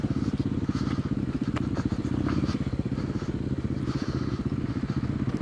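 Dirt bike engine revving steadily on an uphill trail in Floyd, Virginia, likely a KLX 300 on Tusk tires, a continuous pulsing motor drone close by with faint clatter, no clear talking.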